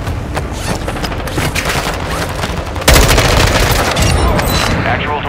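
Missile strike destroying an aircraft in Warzone 2.0 DMZ mode: a dense, continuous roar of explosive blasts and crackling gunfire-like booms, loud and close, swelling sharply into a heavier burst about halfway through and staying intense to the end.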